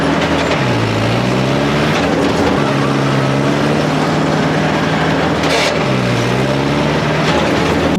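A Mahindra 575 DI tractor engine held at a limited speed by its RPM lock, a loud, steady diesel drone whose pitch dips and climbs back twice as the accelerator is worked.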